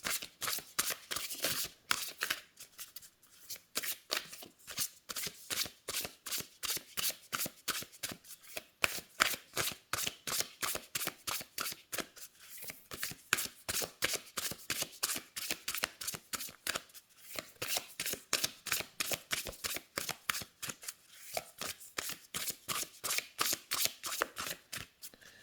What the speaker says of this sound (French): les cartes se mélangent bien. Elles ne collent pas entre elles.